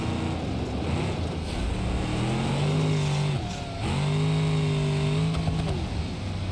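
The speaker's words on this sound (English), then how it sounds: "Seems like the engine is not happy." A struggling car engine in BeamNG.drive on a Johnson Valley time trial, revving hard with a strained, droning tone that dips briefly and then climbs back up, steady and close.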